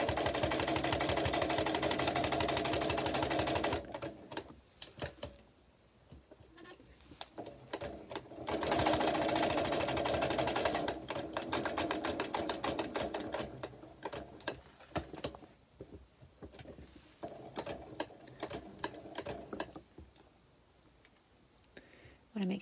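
A sewing machine stitching ribbon runs in long, steady rapid-ticking bursts with short stops between, close and clear, with a voice talking at times between runs.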